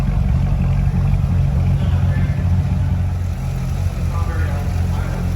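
A Corvette Z06 with an LS7 V8 idles smoothly, a steady low rumble holding even throughout at close range, with some light background noise.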